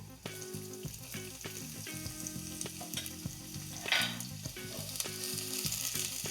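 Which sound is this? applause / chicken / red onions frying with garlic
red onions frying with garlic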